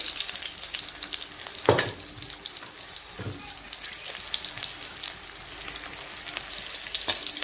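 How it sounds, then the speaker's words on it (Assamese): Chopped onion and panch phoron frying in hot oil, a steady bright sizzle up close with a few louder stirring bursts, no talking. "পিঁয়াজখিনি অকণমান ৰঙচুৱা হোৱালৈকে ভাজি লৈছোঁ।"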